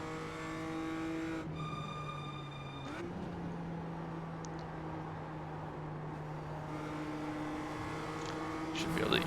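BMW M2 race cars roar around the Gateway oval in the iRacing sim, with steady, high-pitched engine drones holding level and shifting pitch as the cars run close together, under continuous commentary.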